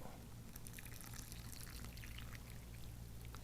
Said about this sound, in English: Now we pour some hot water on it.